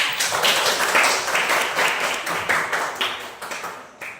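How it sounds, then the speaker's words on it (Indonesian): A classroom audience applauds a group's presentation, steady overlapping clapping that stays moderately loud for about four seconds before thinning toward the end. "Kasih aplaus untuk kelompok 4"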